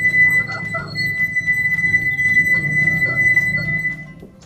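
Empty glass sung by rubbing its rim, giving a thinner, quieter ringing tone over busy rubbing and handling noise and low background rumble, close to the microphone.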